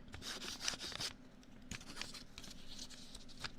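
Crisp, fresh 10,000 yen paper bill handled up close, with soft crinkling, rustling and snapping textures that come and go in quiet, faint bursts.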